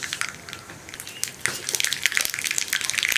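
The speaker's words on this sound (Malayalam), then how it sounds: "ഇതിലേക്ക് 1 ടീസ്പൂൺ കടുക് ചേർത്ത് കൊടുക്കാം." Mustard seeds go into hot coconut oil in a pan, giving a fine, crackling splutter of scattered pops that grows denser and louder toward the end, with no voices.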